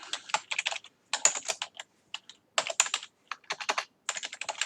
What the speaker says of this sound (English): Sorry if my keyboard clatters.